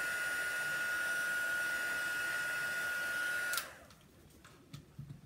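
A heat tool blows steadily over embossing powder on a Christmas card, a loud continuous whirring hiss that cuts off abruptly after about three and a half seconds, leaving faint handling clicks and taps.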